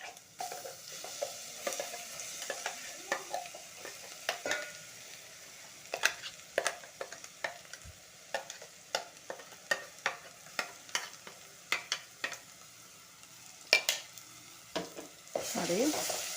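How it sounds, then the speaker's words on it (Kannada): Onion and ground masala frying in a pan, with a soft continuous sizzle broken by frequent sharp spatula scrapes and taps in an uneven rhythm, close by with no talking. "ಸ್ವಲ್ಪ ಈ ರೀತಿ ಫ್ರೈ ಮಾಡ್ಕೊಳ್ಳೋಣ."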